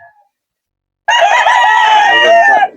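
A loud, sustained rooster crow from a breeder's gamefowl at a market in Bocaue, starting after about a second of silence, harsh and drawn out, close to the microphone.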